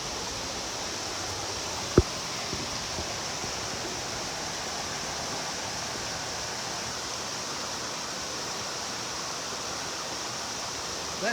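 Fast-running river water rushes in a steady, broad hiss that fills the whole stretch, close and even, with one sharp click near the start and no talk.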